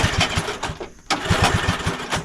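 A vintage small engine starting, sputtering and chugging with rapid rhythmic pulses, briefly dipping before catching again and running roughly, close and loud.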